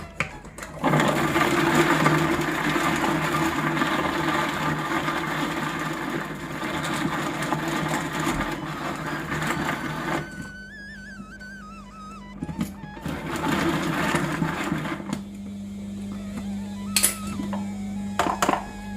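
An electric chopper chopping onion finely for sambar whirs loudly for several seconds, stops, then runs again in shorter bursts with brief pauses between.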